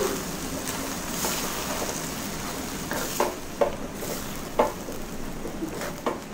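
Masala chitranna rice gets stirred in a pan over a low flame: a gentle, continuous sizzle with scraping and a few spoon knocks toward the end, fairly close and with no voices.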